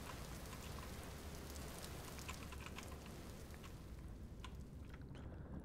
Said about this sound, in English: Oh, this is the outdoors, huh? It's raining.